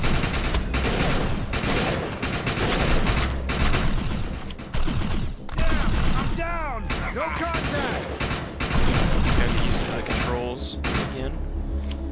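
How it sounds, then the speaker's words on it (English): Bursts of practice gunfire in the shooter game Defiance 2050, with rapid volleys, sharp reports and mechanical clatter filling the scene, and someone talking over the shots at times. "I'm gonna practice some shooting here real quick."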